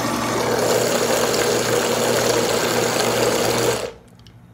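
An electric mixer beats corn cake batter made with condensed milk, a loud steady motor whir for nearly four seconds before it switches off and leaves near silence.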